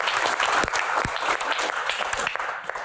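Studio audience at an Indonesian comedy talk show claps enthusiastically, a full, continuous burst of applause with a few sharper individual claps standing out, heard on its own without talk.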